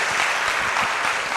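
Audience applause at an event honoring psychologists, a dense, loud burst of many hands clapping, brief and steady throughout.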